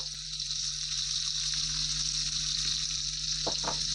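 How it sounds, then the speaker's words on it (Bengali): Potatoes seasoned with salt and turmeric fry in hot oil, making a constant close hiss with faint pops and a couple of stirring scrapes near the end. "আলুটাকে লাল লাল করে ভেজে নেব"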